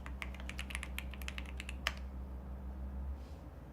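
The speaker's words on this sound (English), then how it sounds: "The keyboard sound." Typing on a computer keyboard, a quick run of close, crisp key clicks for about two seconds over a steady low hum, then only the hum remains.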